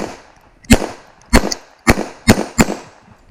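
A 1911 pistol fitted with a Rock Island magazine fires five sharp, loud shots at an outdoor range, spaced irregularly about half a second apart, with faint background noise between them.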